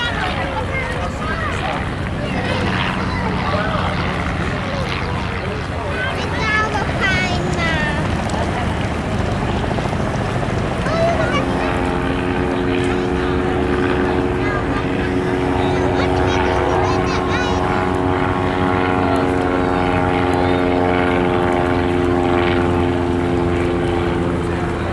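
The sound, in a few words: World War I aircraft engines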